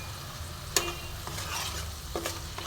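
Masala with Kashmiri chilli powder, salt and sugar sautéed in oil for an okra and egg curry, a low steady sizzle broken by a few sharp scrapes and taps of a spatula on the pan, close and unvoiced.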